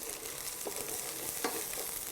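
Carrots hit a hot pan already holding onions and garlic, giving a steady soft sizzle with a couple of brief stirring scrapes, close and moderately quiet.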